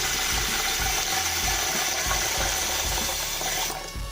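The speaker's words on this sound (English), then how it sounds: "So first you want to fill it with water." Water pours into a container for soaking puzzle cube pieces, a steady rushing stream with faint low clunks, loud and close, then cutting off just before the end.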